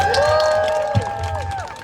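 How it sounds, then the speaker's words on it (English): A crowd at a Gaza solidarity encampment at FIT cheers and whoops, with raised voices holding and sliding tones over a background of crowd noise and faint clapping. "And yeah, again, another round of applause."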